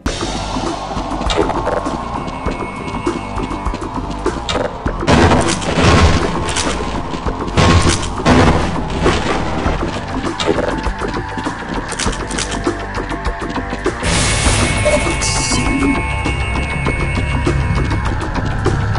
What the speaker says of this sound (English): you even get a sick new weapon, the Tau Cannon, one of the best weapons in the game